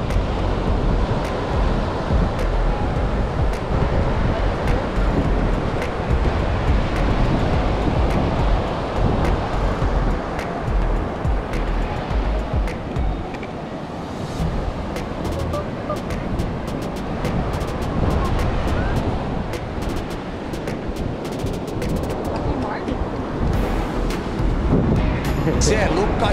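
Surf and wind roar steadily on the beach at Praia do Rosa Norte, a loud, continuous wash of breaking waves with gusty wind buffeting the microphone for the whole stretch, no pauses or distinct gaps.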